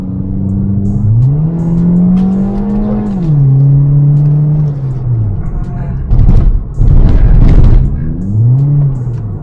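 A Honda City fitted with a custom aftermarket exhaust muffler is revved repeatedly up close, its engine note climbing and settling in several rising and falling pulls, with a louder, rougher burst near the end.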